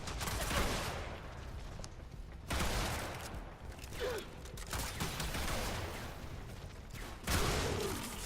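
The Tigris Prime shotgun fires in Warframe, heavy close blasts in rough pairs separated by brief pauses, each shot loud and broadband with a short tail.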